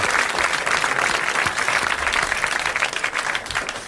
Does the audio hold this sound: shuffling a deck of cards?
no